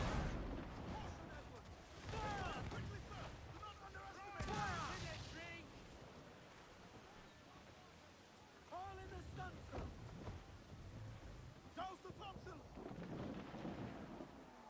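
Ship cannons firing during a naval battle in Assassin's Creed IV Black Flag: several heavy booming volleys with rumbling tails, spread across the clip amid a noisy battle background.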